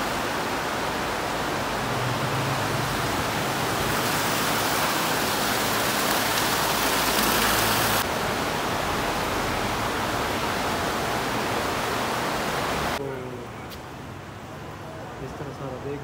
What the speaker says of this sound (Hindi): ये सारा कुदरती पानी आ रहा है